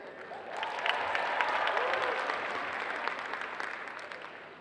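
A crowd applauds at a cosplay contest awards segment at Planet Comicon Kansas City, a steady wash of many hands clapping that swells and holds, with a voice faintly over it.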